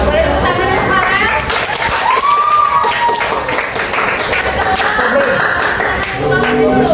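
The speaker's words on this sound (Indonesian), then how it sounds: "Ya, boleh tepuk tangan sekarang." A classroom of students claps hands together on the teacher's cue, loud continuous clapping mixed with voices and crowd chatter throughout.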